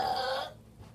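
A woman lets out a single close, loud burp lasting about half a second, followed by near silence.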